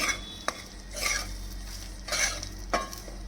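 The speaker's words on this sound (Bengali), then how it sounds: "ঘি দিয়ে একটু নাড়ি নাড়াচাড়া করে" Gulab jamun mixture stirred with ghee in a pan, soft scraping sweeps of a spoon with a couple of sharp clinks against the metal over a faint sizzle, quiet and close.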